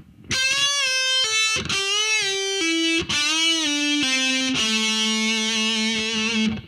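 Distorted heavy metal electric guitar playing a scale lick slowly, about eight sustained notes stepping downward one after another, each ringing clearly before the next, loud and close with no talking, ending on a long held note.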